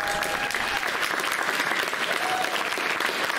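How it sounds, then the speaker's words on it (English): Convention panel audience applauding a Texas Chainsaw Massacre video game guest, dense continuous clapping filling the room at steady loudness from start to finish, with no one speaking over it. "so give him a round of applause."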